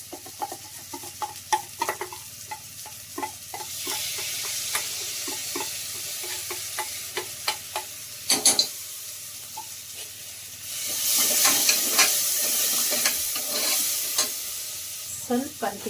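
Masala paste for a jackfruit seed and chana curry sizzles and fries in a pan, stirred with a run of quick scraping strokes, close and fairly loud, with a steamy hiss swelling midway.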